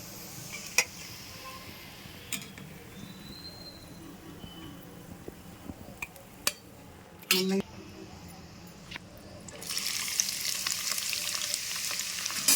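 Chicken biryani ingredients frying in hot oil until golden, a steady soft sizzle with occasional clinks of a utensil against the pan, growing louder and brighter toward the end.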